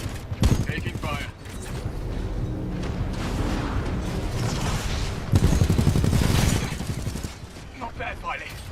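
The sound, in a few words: gunfire in the Titanfall 2 video game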